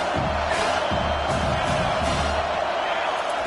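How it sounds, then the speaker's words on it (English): A college football stadium crowd rises and cheers, a broad roar swelling and rolling with whoops, while a commentator talks over it. "This crowd rising up, sensing that its defense needs some help."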